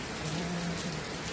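Steady rain falls outside a house, a dense continuous patter of drops on surfaces filling the whole moment, loud and close with no voices over it.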